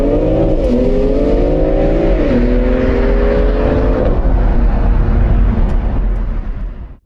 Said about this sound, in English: It pulls hard, sounds great, and the xDrive system makes sure there is no drama, just a constant surge of acceleration.